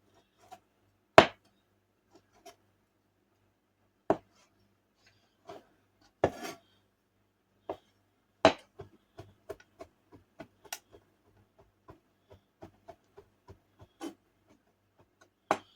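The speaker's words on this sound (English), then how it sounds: "You want to cut them in extremely thin strips." A knife slices cooked chicken gizzards into thin strips on a cutting board, producing sparse, quiet ticks and taps that grow into a quicker, steadier run of light chopping strokes.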